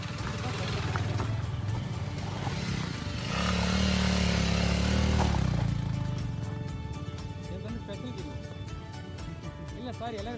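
A motorcycle engine strains and revs loudly climbing a steep off-road hill, rising in pitch as it labors, with voices talking over the noise throughout.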